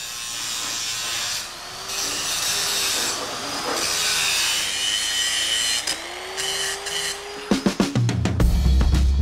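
Steady abrasive sanding on a metal aircraft part rasps continuously, with a whining tone rising and falling, then a burst of sharp clanks and knocks near the end.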